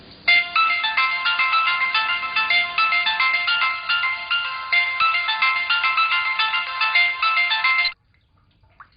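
An electronic bell tone rings continuously for about eight seconds in a repeating bright melodic pattern, loud and close, then stops.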